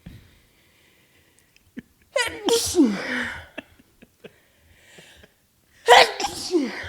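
A person sneezes loudly twice, close by, the second sneeze after a pause of a few seconds, with small breathy sounds and faint movement between them in an otherwise quiet room.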